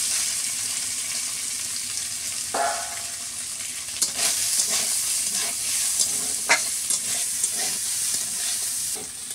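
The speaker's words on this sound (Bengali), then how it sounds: "সোয়াবিনগুলোকে নেড়ে নেব।" Soybeans are stirred and fried in a pan over a village kitchen fire, with a constant oily sizzle and several scraping strokes of the spatula partway through, close and clear.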